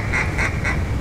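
Mallard ducks quack in three evenly spaced, fairly loud calls over a steady low outdoor rumble during a hunt on an oxbow; no talking.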